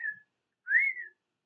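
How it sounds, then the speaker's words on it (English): Two thin, high whistling tones, a brief one then a longer rising-and-falling one, faint and close, like air whistling through the nose. "when I breathe like that, and it will go whistle"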